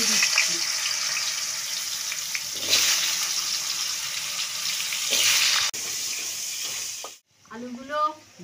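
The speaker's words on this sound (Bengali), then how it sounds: "তেলটার মধ্যে একটু হলুদ দিলাম, আলুগুলো দিয়ে দিচ্ছি।" Potatoes frying in hot oil with turmeric, a steady loud sizzle for about seven seconds that cuts off abruptly, followed by a brief voice.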